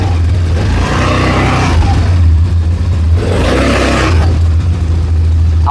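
An ATV quad bike engine revs while reversing, rising in two distinct surges over a steady running hum, loud and close with no talk.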